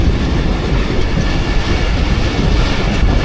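A passenger train, the Rehman Baba Express, pulling into Drigh Road Junction near Karachi: a loud, steady, broadband rumble of wheels and carriages heard from on board, continuous and close, with no talk.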